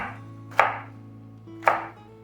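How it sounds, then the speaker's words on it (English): A knife chops through tomatoes on a cutting board for pico de gallo: two crisp, close cuts about a second apart, each with a short fading thud, with nothing else sounding. "And I'm chopping down."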